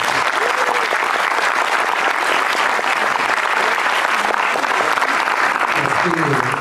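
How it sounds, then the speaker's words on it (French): An audience at an art exhibition opening claps steadily in dense, sustained applause, close and fairly loud, with a voice briefly audible near the end. "je vous demandais d'applaudir André Persheim"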